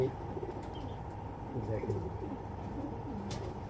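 Racing pigeons coo in low, steady murmuring throughout, a dense layered rumble of soft calls from a loft of strong, short-tailed birds, with someone talking over them close by.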